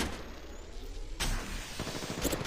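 Gunfire in Apex Legends Mobile, played on a Xiaomi Redmi 10 phone: after a rushing lead-in, a rapid burst of close automatic shots rattles on, dense and continuous.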